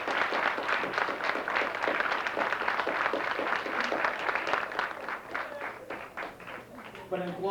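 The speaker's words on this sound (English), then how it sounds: "why don't we, the graduates, give a round of applause to the faculty and the teachers." Graduating eighth graders clap for their faculty and teachers at a school awards banquet, a dense, steady round of applause running throughout with voices mixed in and a speaker's voice emerging near the end.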